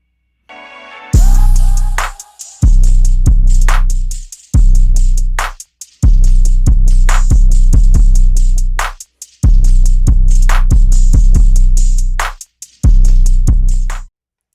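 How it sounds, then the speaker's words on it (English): A punchy electronic percussion beat, made in Cubase Pro 14, with deep kicks and crisp hits, processed with effects, playing in bursts separated by brief silences. "And then all together, all the percussion sounds like this."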